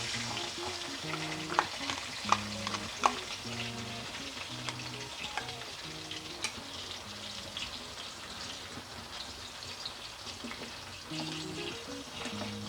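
Yogurt and poppy seed paste frying in hot oil for a pointed gourd curry, a constant close sizzle with a few sharp spatters and clinks, soft music running faintly underneath.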